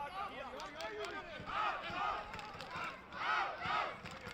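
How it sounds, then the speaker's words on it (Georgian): Crowd of supporters cheering and shouting from the stands at a Georgian basketball match, Aptos against Tbilisi City Hall, with waves of rising roars and swelling chants that keep going throughout. "ხედავთ როგორი გულშემატკივრობა ტრიბუნებზე."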